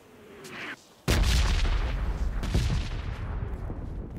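Heavy gunfire in a PUBG Mobile match bursts in abruptly after a short quieter lull, then continues as loud, rolling shots and booms that decay and repeat.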